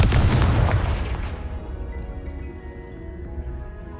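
A Confringo blasting spell goes off in Hogwarts Legacy, a loud, close, booming explosion that hits at once and then fades over a few seconds into a low, rolling rumble.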